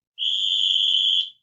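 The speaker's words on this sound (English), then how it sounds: "blows another whistle on the play" A coach's whistle gives one sharp, loud, steady blast lasting about a second during a football play, with no talk over it.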